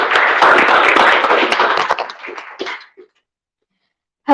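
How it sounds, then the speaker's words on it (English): A round of applause for a student speaker at a school talk on AI, loud dense clapping that tapers off over three seconds into silence before a brief sound at the end. "round of applause for Luca."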